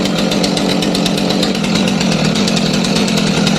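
STIHL MS 500i chainsaw running during a preparation test, a loud, close, continuous buzzing engine held at steady high revs throughout.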